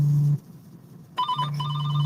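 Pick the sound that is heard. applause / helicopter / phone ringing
phone ringing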